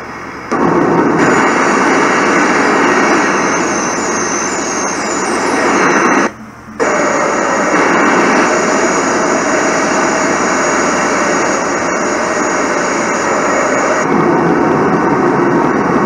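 An airliner's jet engines in flight in Microsoft Flight Simulator X drone steadily and loudly, cut by a brief dropout partway through before the roar resumes.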